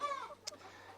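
Hens and chicks out on pasture on a warm day give a short burst of soft, faint clucking and peeping, with one brief sharper chirp in the middle.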